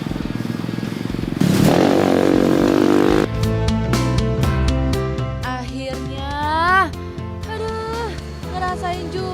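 Off-road motocross motorcycle on a rough countryside trail, a loud close engine roar with bursts of revving, clattering and bumping over uneven ground, engine note rising and falling throughout.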